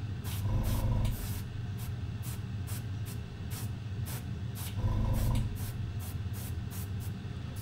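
An airbrush sprays paint in a steady hiss, punctuated by repeated short bursts of air at an irregular rhythm, with two louder, fuller blasts partway through.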